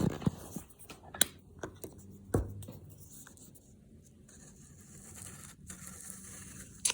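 Pencil or pen scratching and rubbing across paper while drawing flowers, with soft intermittent strokes, a few sharper taps and faint rustling, close and quiet, no talking.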